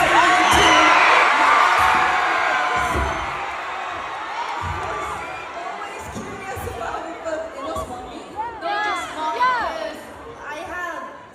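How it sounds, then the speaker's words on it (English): A large concert crowd screams and cheers loudly, the roar surging at first and then easing into scattered whoops and high shrieks, with people talking nearby. "Everyone's screaming just one tap later."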